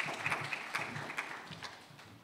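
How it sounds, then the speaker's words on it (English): Audience applause at an architects' institute annual general meeting in Ghana: a hall full of steady clapping with a few louder individual claps, slowly tapering off toward the end. "another round of applause for our Honorary Secretary"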